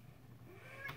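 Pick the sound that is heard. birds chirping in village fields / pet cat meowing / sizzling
pet cat meowing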